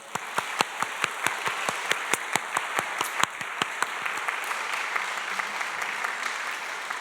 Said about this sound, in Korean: 같이 한번 박수 한번 치겠습니다